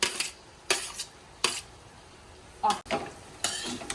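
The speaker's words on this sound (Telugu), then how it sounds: "ఇలా ఒకసారి బాగా కలిపేసుకుందాం." Bitter gourd pieces being mixed with onions in a pan, bursts of utensil scraping and clatter against the metal at intervals over a faint sizzle.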